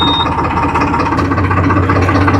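A Swaraj 969 FE CRDI 4wd tractor's diesel engine runs steadily, a loud close low rumble with even mechanical throb and no one speaking.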